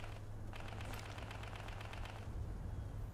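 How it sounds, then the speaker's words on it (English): Gunfire in the video game Ghost Recon Future Soldier, a rapid burst of automatic shots rattling from mid-distance over a low background hum, fairly faint, with no talk. "Who are they shooting at?"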